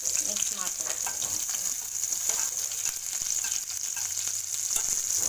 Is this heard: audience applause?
no